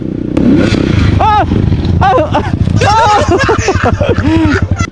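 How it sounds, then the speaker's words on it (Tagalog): A motorcycle engine drones and revs nearby as it rides along a road, with clattering and rattling over the top, while people talk loudly over the steady engine noise. "Kana akong gisundan niya motor guys."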